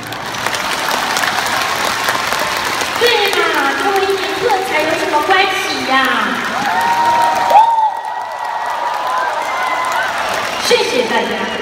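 A concert arena crowd at a show applauds in a broad wash of clapping with some cheering, while someone talks and sings over it before the applause thins out.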